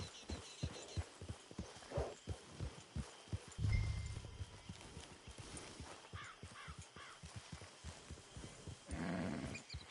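Video game horse hooves clip-clop in a steady walking rhythm, fairly close, with a few crows cawing and a brief low rumble partway through.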